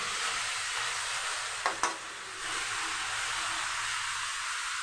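Chicken coated in masala stir-fried in a pan gives off a continuous close sizzle, broken by one brief sharper scrape or clatter partway through.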